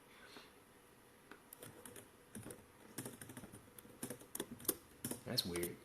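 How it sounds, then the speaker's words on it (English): A computer keyboard with a fault that types every keystroke twice clatters with quick, irregular key taps, starting sparse and building into denser bursts of typing, close and fairly quiet. "For some reason, my keyboard is typing twice every time I push a key."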